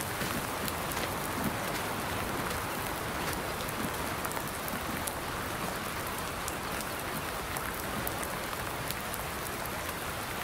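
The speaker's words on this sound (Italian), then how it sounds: "sta finendo di piovere." Steady, dense rainfall in the Farming Simulator 19 video game, a continuous hiss of drops pattering on surfaces, fairly loud and even throughout with no talk.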